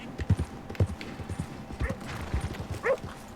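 Horse hooves clip-clop in a steady rhythm close by in Red Dead Redemption 2, each footfall a distinct thud.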